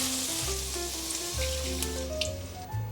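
Orange juice sauce with green peas sizzling in a pan, with a soft, steady bubbling fry under low humming tones.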